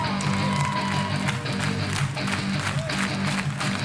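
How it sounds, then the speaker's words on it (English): A live crowd claps in rhythm along to a rock band covering a song, the steady claps sitting under loud music. "Clap your hands with me."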